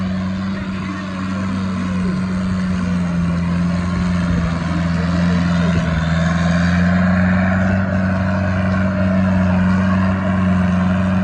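Sonalika tractor engine at a tractor trolley tournament, a loud steady low drone with a strong constant hum running throughout, under shouting and chatter from a nearby crowd.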